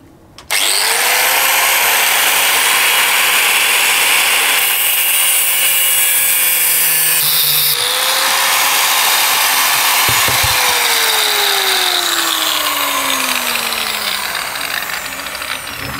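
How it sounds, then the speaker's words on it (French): An angle grinder cuts into metal, a loud, close, continuous high whine that holds steady and then sags in pitch as the disc bites and loads under pressure, with no one speaking. "je vais meuler ça et puis on se retrouve"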